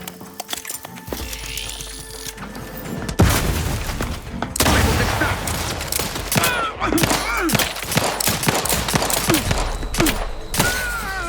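Gunfire and a grenade blast in The Outer Worlds 2 video game: rapid rattling shots and heavy booms come in dense, overlapping bursts, loud and close, with a brief groan among the battle noise.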